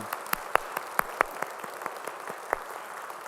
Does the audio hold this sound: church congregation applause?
yes